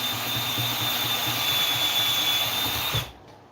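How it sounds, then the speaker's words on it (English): A small power driver whirs steadily and loudly while backing out little steel bolts or screws, then cuts off abruptly near the end. "Just undoing little bolts here,"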